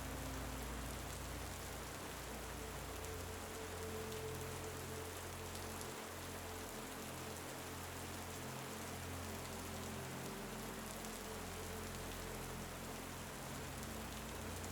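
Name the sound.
rain falling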